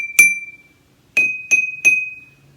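Identical glasses struck with a pencil ring out in clear, bright tones, one longer ping followed by three quicker taps, each chiming at a slightly different pitch in a quiet room.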